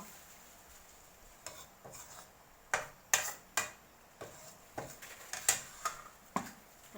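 A ladle knocks against the rim of a cooking pot while curry with shrimp and bamboo shoots is stirred, giving a series of sharp close clinks at an irregular rhythm over a faint background.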